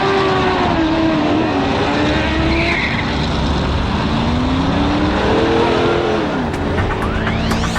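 Red C4 Corvette in an 80s movie chase, loud engine roar with screeching tires and sliding skids, rising and falling pitch as cars race close by.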